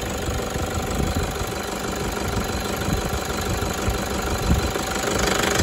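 Toyota 1KD-FTV D4D diesel engine with a weird knock, running with a rough, continuous mechanical clatter and irregular knocking pulses at moderate level throughout.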